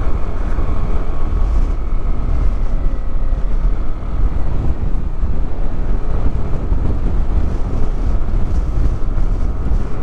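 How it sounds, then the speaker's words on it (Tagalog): Strong wind roars steadily and loudly on a bypass road between Paete, Laguna and Real, Quezon, buffeting the microphone with a deep rumble throughout. "grabe lakas ng hangin"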